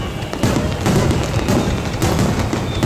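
Fireworks burst at a Japanese fireworks festival, a dense, loud, continuous crackle and rumble of overlapping explosions with no clear pauses.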